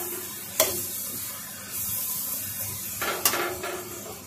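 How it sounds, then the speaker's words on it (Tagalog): Green and yellow peppers sizzling in a pan in a Greek home kitchen, a steady hiss with a couple of sharp utensil clanks and stirring scrapes, close and alone. "And then, ilalagay na natin ang green and yellow pepper."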